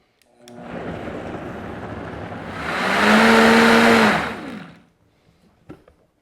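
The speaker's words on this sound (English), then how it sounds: "I'm going to puree this at high speed until a thick, rich sauce develops." A blender purees a thick vegetable sauce with cheese and stock at high speed. The motor roars steadily, surges louder and higher for about a second, then winds down into quiet with a few small clicks.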